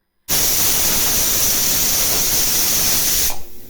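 Pressure cooker on medium-low heat cooking nihari gives a loud, continuous whistling hiss of escaping steam that starts abruptly and runs for about three seconds before stopping.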